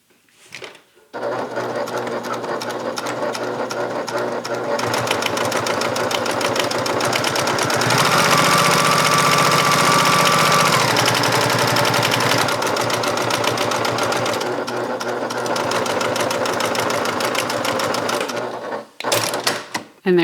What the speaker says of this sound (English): We're going to go ahead and stitch the second edge.